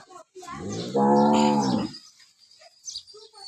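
A cow gives one long, loud, tonal moo lasting about a second, close by, with some quieter outdoor background noise around it.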